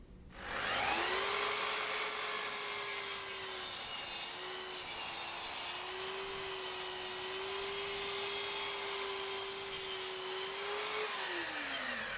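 Power saw cutting wooden boards to length against a stop, giving a loud steady high whine that holds for about ten seconds with a slight dip midway before spinning down at the end.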